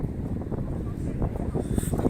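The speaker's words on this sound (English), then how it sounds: "It's a bit windy as well. I hope it doesn't affect the audio too much." Wind buffets a microphone outdoors, producing a continuous low rumbling roar with gusty swells throughout.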